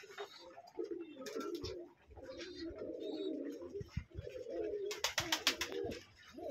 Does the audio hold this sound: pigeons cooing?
yes